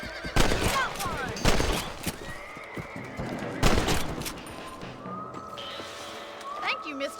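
Rifle shots in Red Dead Redemption during a hunt, several sharp loud cracks spaced a second or two apart with brief echoes, along with a horse's whinny and quieter game sounds afterward.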